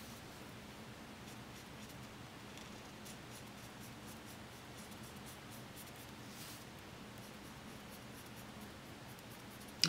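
Darkest blue-gray colored pencil outlining a small coach drawing on paper for a handmade card, a soft continuous scratchy scraping that stays faint and steady, with no talk.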